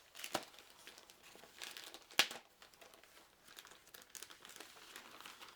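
A plastic bag holding board-game storage lockers crinkles quietly up close as it is opened, with sharp rustling bursts and a few louder crackles between softer handling noises.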